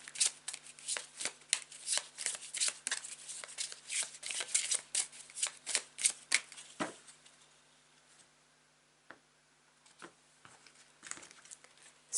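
A tarot card deck being shuffled up close: quick papery riffles and rapid flicks of cards for about seven seconds, then a pause and a few softer, scattered card taps and slides.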